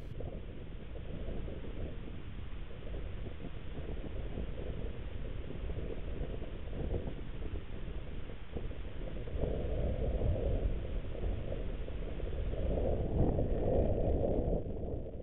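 Steady wind roars across the microphone outdoors during a wet, windy fox-stalking hunt, a broad continuous buffeting rush that swells louder in the last few seconds, with no voices.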